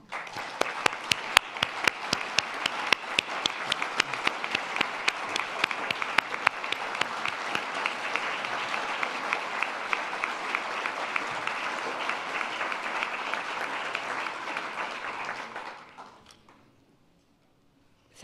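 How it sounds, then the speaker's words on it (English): A large audience applauds at an evening event celebrating the letters of Nelson Mandela, with steady, dense clapping that holds for about fifteen seconds before fading out to near silence. "So, can we give her a round of applause?"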